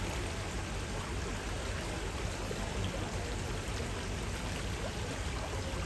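A rapid river current where salmon swim upstream rushes in a dense, unbroken roar of water, steady and fairly loud throughout, with no voices.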